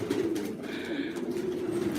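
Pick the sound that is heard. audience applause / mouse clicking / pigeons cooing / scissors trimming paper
pigeons cooing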